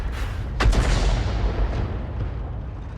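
A Grille artillery gun in a video game fires a shell with a single deep, heavy boom that rolls out into a long fading rumble.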